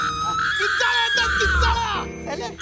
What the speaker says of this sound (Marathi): किंचाईचा अलार्म लावलाय